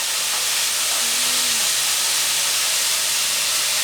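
Beef for jap chae sizzles in a frying pan with a loud, steady, broadband hiss that runs unbroken from start to finish, with no voices.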